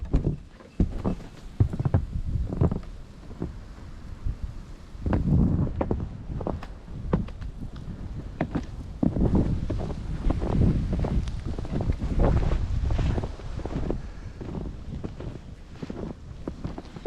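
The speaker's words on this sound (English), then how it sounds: "So you can see it's snowing pretty hard, and there's quite a bit of wind." Strong wind roars during a snow blizzard with heavy snowfall, buffeting the microphone in gusty, uneven surges with rustling and crunching noises close by, and no talking.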